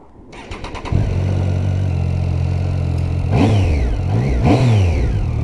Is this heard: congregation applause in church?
no